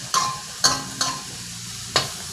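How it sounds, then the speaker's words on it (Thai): Mushrooms and sliced chili are stir-fried over medium-high heat in a pan, with four sharp scraping stirs over a steady sizzle, close and clear, and no talking. "ใช้เวลาไม่นานในการผัดนะครับ"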